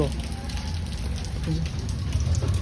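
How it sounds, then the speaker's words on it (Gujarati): Steady rain falling outside, a dense even patter heard close and moderately loud, with faint voices in the background. "અને વરસાદ ચાલુ છે"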